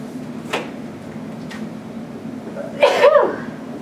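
A single sharp sneeze bursts out near the end, loud and close, after a couple of faint clicks over a low steady hum.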